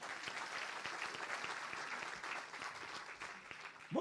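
Church congregation clapping together, a steady wash of applause at moderate distance that carries on without pause.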